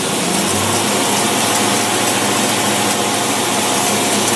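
An engine fitted with a tri-power carburetor set runs loud and steady up close, a continuous droning rumble with no pauses and no talk.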